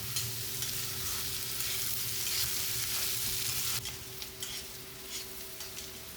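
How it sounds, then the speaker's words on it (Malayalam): Chopped onion and green chilli sauté in a pan with a dense, steady sizzle and a faint constant hum. The frying drops in level partway through as the stirring continues with soft scraping. "ഉള്ളിയും പച്ചമുളകും അത് അരിഞ്ഞത് കൊണ്ട് ചേർക്കാം അത് നമുക്ക് വഴറ്റിയെടുക്കാനാണ്"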